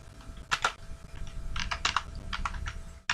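Typing on a computer keyboard while entering data into a form, irregular clusters of close, crisp key clicks with short pauses between bursts, against a quiet background hum.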